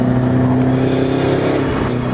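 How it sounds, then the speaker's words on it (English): A Subaru WRX STI with an external wastegate drones loudly from close by, a steady engine hum with a faint rising whistle and a gentle swell in the middle, no voices present. "I could literally just sit here and listen to this external wastegate all day long"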